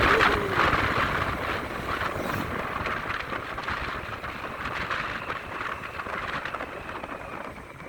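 A vehicle speeds along a newly repaired rural asphalt road in the countryside, with a steady rushing engine and wind roar. Faint rattles and bumps come through, and the loudness eases slightly over time.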